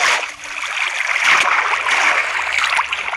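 Water placed in a Minecraft world gives a steady rushing, trickling flow with small splashes, loud and close, running throughout with no talk.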